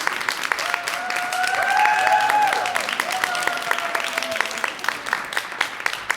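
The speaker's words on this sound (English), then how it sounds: "Let's give Genie another round of applause." Audience applause after a talk, steady clapping from a crowd that swells and then tapers off over about six seconds.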